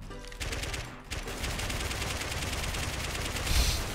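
Submachine gun fire in a video game, heard as rapid, sustained automatic bursts with a fast regular rhythm, loud and close, after a brief pause near the start, with a heavier thump near the end and no talk.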